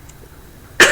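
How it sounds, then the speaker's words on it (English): A single sharp cough bursts out near the end after a stretch of quiet background hum. "I need to take some cough drops before the show tonight."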